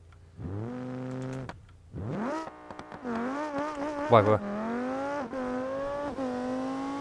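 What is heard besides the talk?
powerful car accelerating in a video game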